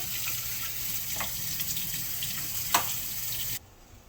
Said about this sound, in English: Just wash that extra starch off, cold water.